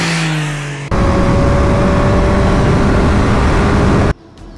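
A Triumph Street Triple RS 765cc motorcycle engine idles, then surges into a loud sustained rev for about three seconds before cutting back to a quiet idle, close up and with no voices.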